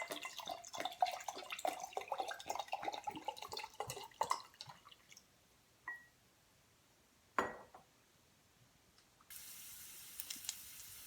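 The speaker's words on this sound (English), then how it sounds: "fill a bottle with bourbon and pour it into your infuser jar." Bourbon is poured from a bottle into an infuser jar as a close, steady trickling pour lasting several seconds, followed by a few sparse glassy clinks and knocks.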